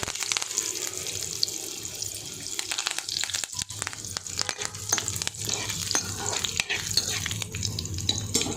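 Cumin seeds, garlic and curry leaves frying in hot oil, a dense crackling sizzle with frequent sharp pops and stirring scrapes throughout, close and loud, no talking.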